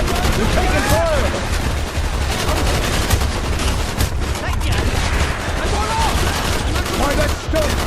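Heavy gunfire during a Vietnam mission in a Call of Duty video game, dense overlapping rifle and machine-gun shots crackling continuously at close range, with shouted voices mixed into the loud firefight.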